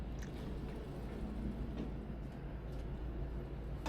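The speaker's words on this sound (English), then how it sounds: "Another tram arriving, let me try something different." A tram arriving at a street stop: a low, steady rumble of the tram rolling close by, with a faint high screech now and then and no voices.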